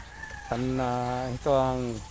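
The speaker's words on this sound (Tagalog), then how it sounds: "At itong mga manok nakita ninyo kanina." Two drawn-out clucking calls from a hen, close and clear, with a short pause between them.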